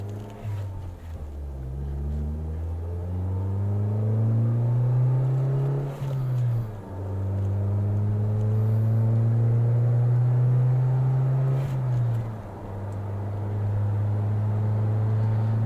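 A Toyota Corolla Hatchback fitted with a Remark exhaust revs and pulls through the gears, its exhaust note climbing steadily, dipping at two shifts, then droning at moderate volume under load.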